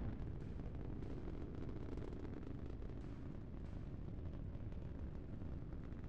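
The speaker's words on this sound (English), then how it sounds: "Preparing missile launch." A missile launch in a video game comes through as a continuous low roaring rumble, broad and sustained at moderate level from start to finish, without any voices.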